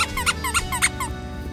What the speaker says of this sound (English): We've got squeaky ones.